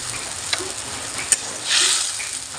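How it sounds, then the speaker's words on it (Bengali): A boiled egg fries with spices in a pan, giving a steady, fairly soft sizzle broken by a couple of sharp ticks and a brief louder hiss near the end. "একটা ডিম সেদ্ধ হতে দিয়েছিলাম ছেলের জন্য"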